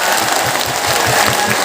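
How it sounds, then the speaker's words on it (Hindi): An audience claps to welcome the bride's father-in-law onto the stage at a wedding ceremony event, with dense continuous clapping and a soft rhythmic thump underneath. "एक बार ताली बजाओ समधी को"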